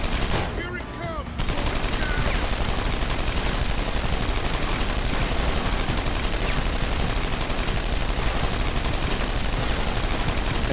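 Sustained automatic gunfire in Deus Ex: Human Revolution, Director's Cut, loud and dense, running nearly unbroken for about ten seconds after a brief quieter opening.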